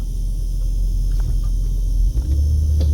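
A car rumbles steadily past on a city street away from the Las Vegas Strip, its low engine and tyre noise loud and close with no talk over it.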